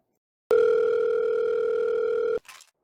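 One long, steady electronic telephone ring tone sounds loud and close for about two seconds, then cuts off sharply, followed by a brief faint rustle.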